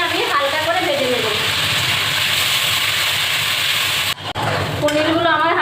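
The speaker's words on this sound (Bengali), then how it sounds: "এটাকে আমি হালকা করে ভেজে নেব।" Paneer pieces fry lightly in hot oil in a kadai, a steady close sizzle that runs throughout, with someone talking over it at the start and again at the end.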